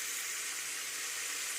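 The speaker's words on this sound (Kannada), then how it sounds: "ಫ್ರೈ ಆದಮೇಲೆ ಕರಿಬೇವು ಸೊಪ್ಪು ಸ್ವಲ್ಪ ಹಾಕೊಳ್ಳೋಣ." Curry leaves crackle into hot oil for tomato rice, giving a close, steady bright sizzle that holds evenly throughout the brief moment.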